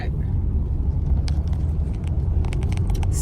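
A car's engine rumbles steadily from inside the cabin on the way to get food, with constant low road noise and scattered faint clicks and rattles over the top.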